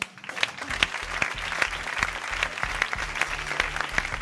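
Sustained audience applause at a Catalan comedy show, dense, steady clapping from a live crowd lasting several seconds with no talk over it.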